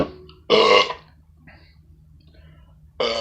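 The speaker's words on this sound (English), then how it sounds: "Oh man, I can't even burp without almost puking." Burps from a man after drinking cheap beer: two loud, raspy belches, one right after the start and another at the very end, close up with quiet between them.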